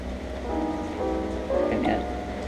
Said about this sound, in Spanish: Ahora está lloviendo, así que estoy sentado aquí porque olvidé de traer mi paraguas.